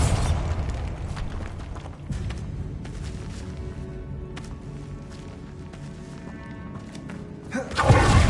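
A Bombarda blasting spell in a video game, with a steady low rumble and scattered clattering hits, ending in a heavy thudding explosion near the end.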